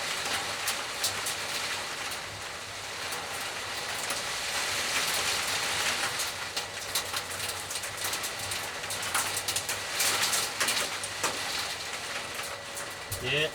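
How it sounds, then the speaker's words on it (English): Heavy rain mixed with a little hail drums on the roof and surfaces of a workshop, a dense, continuous hiss with scattered sharper ticks from hailstones, steady and loud throughout. "There's the rain. You won't be able to hear me talk now."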